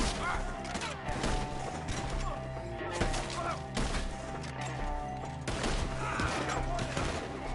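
Gunfire in the video game Red Dead Redemption 2 crackles as repeated close shots and impacts over a busy, loud battle soundscape, with voices shouting at points.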